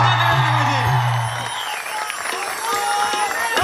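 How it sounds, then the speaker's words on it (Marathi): Audience at a Marathi stage music-and-dance show breaks into loud, dense applause with scattered whoops, sustained through the whole short burst, close and full. "जोरदार टाळ्या वाजवा."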